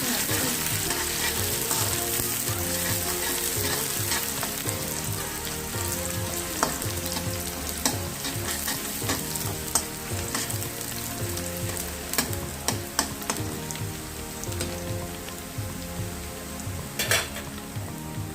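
Onions sizzle and crackle steadily in hot oil while being fried to golden brown for mung dal, with occasional clinks and scrapes of a utensil stirring the pan.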